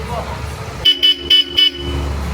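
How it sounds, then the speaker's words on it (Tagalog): Aftermarket Bosch Europa horn fitted to a Honda ADV 350 scooter, honked in four short loud bursts at close range. "Yung busina gumagana yung stock horn saka Bosch Europa."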